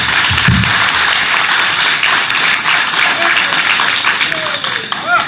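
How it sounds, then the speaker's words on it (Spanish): Audience at a public forum on water rights applauding a speaker, a steady, moderately loud patter of many hands that runs throughout and tapers slightly near the end. "Merecidamente un aplauso más para él."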